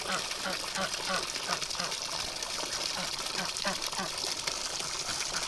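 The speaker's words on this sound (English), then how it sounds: "I can get the water running in the pen." Water gushes and trickles steadily in an animal pen where ducks are kept, with a rhythmic pulsing running through the flow and faint voice-like sounds mixed in.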